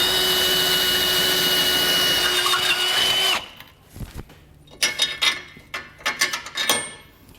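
Power drill enlarging a bolt hole for a Roadmaster Direct-Connect base plate on a 2019 vehicle, a loud steady whine for about three seconds, then stopping, followed by scattered clanks and handling noises.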